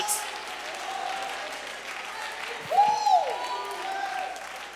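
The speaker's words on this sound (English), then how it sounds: "Somebody ought to clap your hands and lift your voice and say," Church congregation clapping and cheering during a Sunday morning sermon, a steady wash of applause with a voice rising and calling out briefly in the middle.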